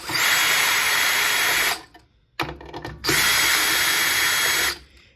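A power drill backs screws out of the top cover of an Overhead Door 450A garage door opener: two loud, sustained whirring bursts, close up, split by a short pause filled with handling clatter.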